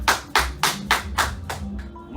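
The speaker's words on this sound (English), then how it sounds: "Let's clap for him." A few hands clapping in a steady rhythm, about six close claps in a row, fading at the end.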